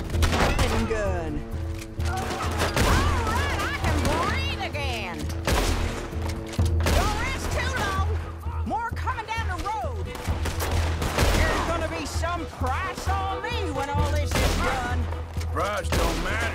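Rapid Gatling gun fire during a Red Dead Redemption 2 mission fight with riders, loud sustained bursts of automatic shots and booms mixed with game dialogue, nearly continuous.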